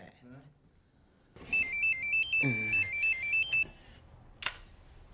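Telephone ringing while a call is placed: a loud electronic ringtone with a repeating stepped melody lasting about two seconds, close by, with a person talking before and after.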